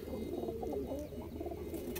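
Teddy pigeons cooing softly nearby, a few low, rounded coos repeating over steady background noise, with no talking.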